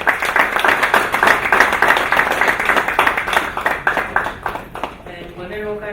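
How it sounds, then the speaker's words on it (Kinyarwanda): Applause for students at a national exam results announcement: dense, lively clapping from a crowd, with rhythmic hand claps building and continuing steadily before thinning out at the end. "ntimwinyemerere mwareka tukabaha amashyi"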